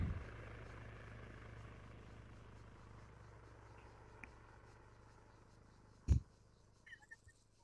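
Helicopter in the video game Arma 3, a faint, steady rotor drone fading slowly, broken by a sharp thump and a few soft clicks.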